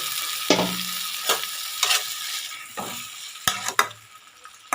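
Small fish with spices and a splash of water fry in a pan, with about six sharp scraping strokes of a stirring spoon over a steady, close sizzle.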